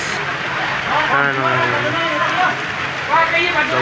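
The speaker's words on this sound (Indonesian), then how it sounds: "Lah dulu hujan." Rain falling during an outdoor mini soccer session, a steady patter on surfaces running beneath someone talking nearby, with the rain's hiss constant throughout.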